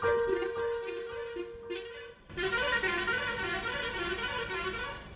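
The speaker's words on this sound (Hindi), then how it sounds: "दूसरे की बस ऐसा हॉर्न मारे" A loud bus horn honks in a long sustained blast at an empty bus stand, then cuts into a second, harsher multi-tone horn that keeps sounding to the end.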